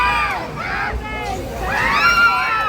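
Riders on a drop tower ride shriek and scream in rising, sweeping bursts. Several voices overlap in a loud, excited crowd that carries on throughout.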